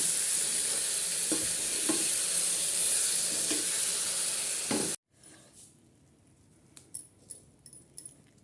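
Mango paste and tamarind pulp hit a hot tempering and sizzle loudly and steadily for several seconds with a few stirring knocks, then the hiss cuts away to quieter spoon clinks and scrapes.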